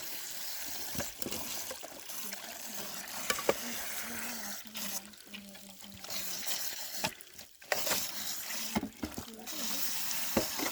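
Water splashing and trickling from a busted connection on an off-grid well pipe, an irregular spraying hiss with intermittent clatters, while voices speak over it.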